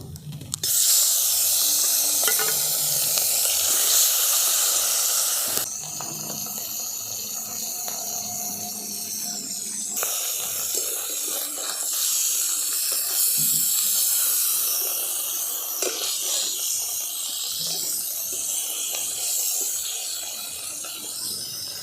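River bata fish, rubbed with salt and turmeric, frying in hot oil makes a loud, continuous hiss and spatter that shifts in intensity across the clip and is heard alone, without talk.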